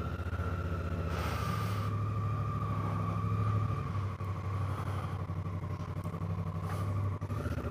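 Honda Africa Twin motorcycle riding on a chilly day, a steady loud engine drone with a constant low rumble and mild mechanical clatter.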